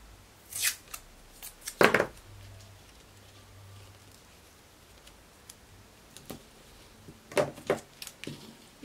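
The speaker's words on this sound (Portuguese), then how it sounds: "Corto aqui." Scissors snip through fabric while a tulip sleeve is cut for a sewing project, giving a few short crisp cuts in bursts near the start and again toward the end, close and clear with quiet pauses between.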